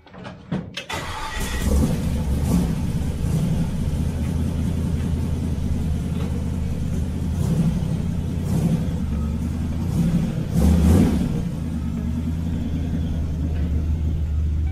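An engine catches and settles into a steady, loud idle, its low rumble holding even with a slight rise in pitch near the end.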